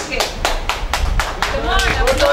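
An audience claps in a steady run of sharp, loud beats that fill a theatre workshop space, carrying on throughout with a little voice mixed in.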